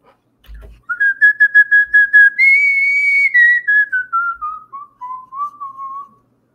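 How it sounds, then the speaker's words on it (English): A person whistles a clear, solo tune: a run of short, quick notes, then a longer held note that glides slowly downward, close and loud with no talking. "I always whistle some obnoxious other thing on top of it"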